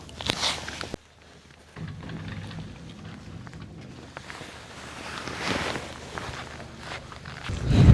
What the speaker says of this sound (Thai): ลมแรงมากครับวันนี้